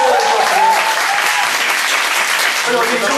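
Fan audience at a Korean musical actors' talk event breaking into loud, sustained applause, dense clapping from a full room that stays steady for several seconds, with a few voices underneath.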